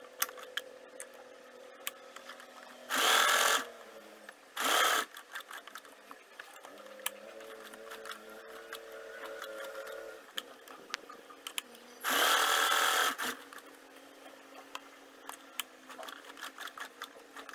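A home sewing machine stitching kurta fabric along a marked line runs in brief bursts: two short whirs early, one longer run later, with quiet handling sounds and faint clicks between them.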